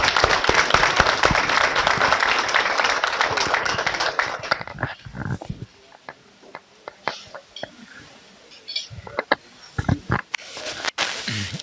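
Applause at a parish dinner event, a dense burst of crowd clapping for several seconds that dies down into scattered claps and quiet murmuring voices.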